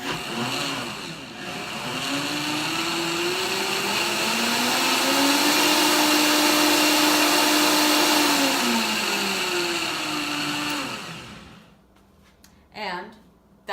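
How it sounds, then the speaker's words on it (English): A Vitamix blender whirs with soapy water inside, a loud steady motor roar whose pitch climbs, holds high, then falls over about eleven seconds before cutting off, followed by a brief faint clatter. "fill it with water and then a little bit of dish soap, put the lid on, and then just turn it on"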